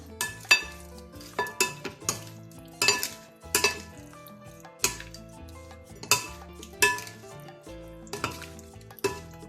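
Utensils clatter and scrape against a bowl as a Thai seafood salad with lime juice is tossed, with repeated rhythmic clinks and knocks, close and fairly loud, and no talking.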